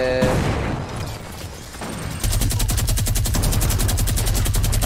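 A minigun firing in the Fortnite video game: after a brief mix of game sounds, a loud, continuous rapid-fire burst with an even, fast mechanical rhythm runs steadily to the end.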